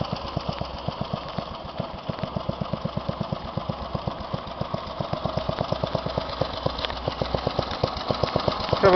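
A Westwood S1000 lawn tractor engine idles steadily close by, a fast even putter of firing pulses with a slight rise in level near the end, with no talking.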